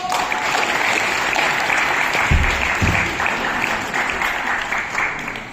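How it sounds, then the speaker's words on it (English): An audience at a kickboxing show breaks into sustained, dense applause that holds steady and fades slightly toward the end, with a couple of low thumps partway through. "Give me a round of applause!"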